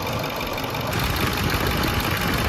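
A car engine idles steadily during a fuel injector leak check, giving a loud, continuous mid-range rumble close by with no talk.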